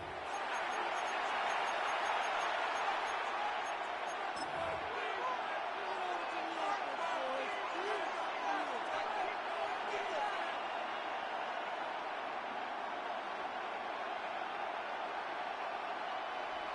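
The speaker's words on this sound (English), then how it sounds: "The crowd making their presence felt." Stadium crowd noise in an EA Sports NFL video game: a broad, constant roar from a large crowd holds steady throughout, with faint murmuring swells underneath.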